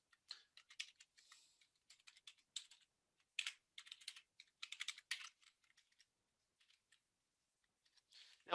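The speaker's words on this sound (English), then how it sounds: "Please bear with me as I type this in." Light, quick keystrokes on a computer keyboard entering details into a form, irregular bursts of clicks separated by short pauses, close and quiet with no voices.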